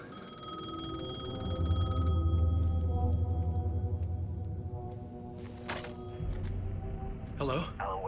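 A payphone rings in the video game Alan Wake 2, a sustained electronic ringing tone over a low droning ambience, followed by brief clicks and quieter background sound.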